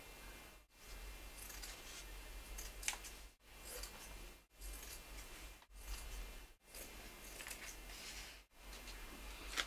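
Scissors cutting fabric along a pinned sewing pattern for a mermaid swim tail, close and quiet, steady snipping and rustling strokes broken by several brief pauses, with no talk.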